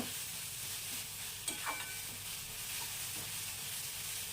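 Gadal leaves cooking in a pan give a low, steady sizzle with a few faint stirring scrapes, fairly quiet and close.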